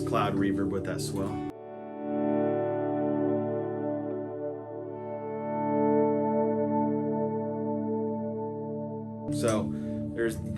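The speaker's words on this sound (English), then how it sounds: "Turn on his cloud reverb with that swell." Electric guitar chords washed in a cloud-style reverb with a dark swell, a sustained shimmering pad of layered tones that blooms and lingers for several seconds, framed by brief talk at the start and end.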